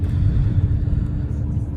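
Alfa Romeo MiTo 1.4 MultiAir 155 hp driving in Dynamic mode, heard from inside the cabin as a steady low engine and road rumble, moderately loud, with a voice speaking over it.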